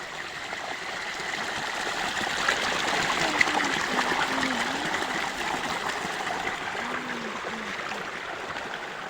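A steady, hissing rush of water pours continuously from a burst hose at close range, bright and broadband, with a faint low murmur briefly underneath.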